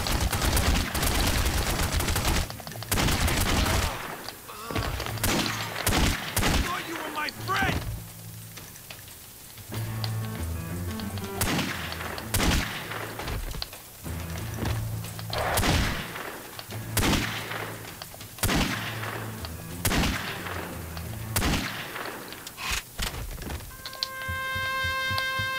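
Gunfire in The Godfather video game: a rapid run of sharp shots and bursts, loud and close, with a steady game soundscape underneath and tonal chimes near the end.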